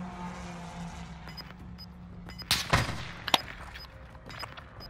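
Gunfire from Call of Duty: Modern Warfare comes as a few sharp shots and short bursts amid ambient game noise, fairly distant and moderately loud.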